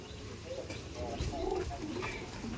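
Racing pigeons in a loft with single-bird compartments, soft low cooing calls rising and falling in short phrases, quiet and near, with a few faint chirps mixed in.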